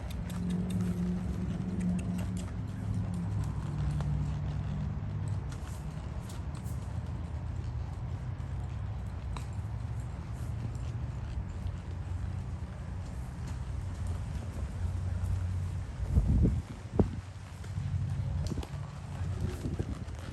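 Horse hooves clip-clop steadily at a walk beneath constant outdoor noise, with a couple of sharper knocks toward the end.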